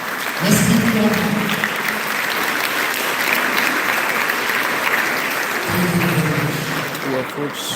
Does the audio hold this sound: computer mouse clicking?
no